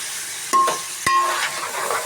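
Bottle gourd pieces frying with onion in a pan, stirred by hand with a utensil: a steady close sizzle with two sharp scrapes or knocks against the pan, with no talk.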